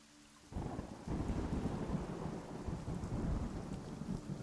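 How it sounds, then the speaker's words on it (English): Loud thunder rumbles through a storm with steady rain, a deep roll that kicks in sharply and keeps booming over the continuous patter, with no talking. "Some loud thunder."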